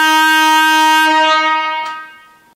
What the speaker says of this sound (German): Und mit dem Kompressorhorn.